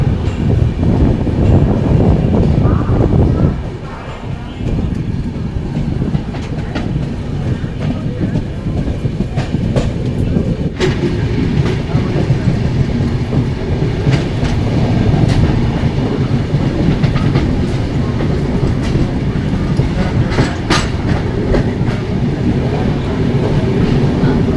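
An Indian Railways superfast train, the 20858 Shirdi to Puri service, runs along the track. A steady, loud rolling rumble with rhythmic wheel clatter continues throughout, briefly dipping early on before carrying on unbroken.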